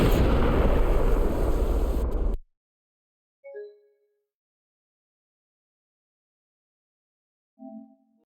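A loud explosion in a Cyberpunk 2077 game cutscene, a dense broadband roar lasting about two seconds that cuts off abruptly, followed by silence and two brief, faint tonal chimes.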